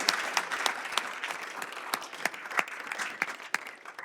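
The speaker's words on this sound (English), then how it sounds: "I'm gonna make everybody clap one last time" An audience applauding at a student math challenge award ceremony, a steady patter of many hands clapping with sharper individual claps standing out.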